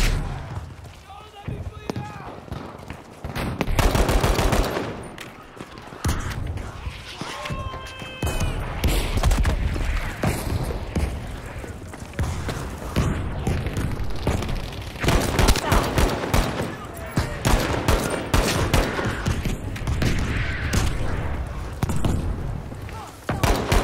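Battlefield V gunfire, made up of repeated bursts and single shots mixed with footsteps and game noise over about twenty seconds, while people talk over the action throughout.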